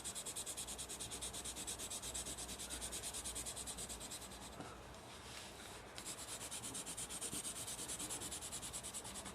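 A Derwent Academy coloured pencil shades across paper, the pressure easing off to build a gradient. A steady, soft scratchy rubbing goes on almost without pause, faint and close, with one short lull near the middle and no talk.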